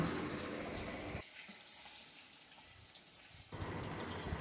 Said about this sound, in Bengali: আর এই যে মাছ রান্নাটা হচ্ছে দেখো